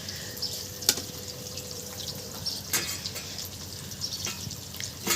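Green chillies and onion frying in a hot wok, a soft crackling sizzle with scattered pops and stirring clatters, fairly quiet and close, no voices.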